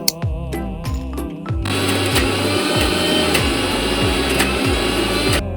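A kitchen mixer grinder whirs loudly as it blends gavar bhaji paste, with a few short bursts at the start before a steady continuous grinding roar with background music.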